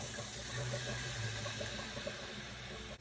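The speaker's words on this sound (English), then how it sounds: "Splash of white wine." White wine splashes into a hot pan of seafood, olives and capers, giving a steady close wash of liquid and sizzle that lasts the whole moment without pause.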